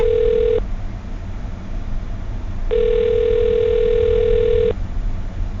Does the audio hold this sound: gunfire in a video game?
no